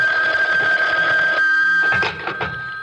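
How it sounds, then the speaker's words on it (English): A telephone bell rings with a steady, continuous electric trill in a radio drama setting, loud and close. It cuts off partway through, followed by faint handling clatter. "Reuben, aren't you going to answer the phone?"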